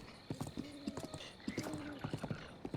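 A horse's hooves clip-clop at a steady walking rhythm in a video game, the hoofbeats close and clear over a quiet background.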